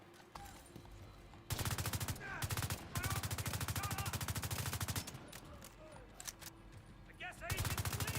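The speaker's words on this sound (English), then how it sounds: "Who's shooting at me?" Rapid automatic gunfire in The Division 2, a shooter video game, with dense bursts of repeated shots starting after a quiet opening, pausing briefly, then resuming loud and sustained, with sharp isolated cracks near the end.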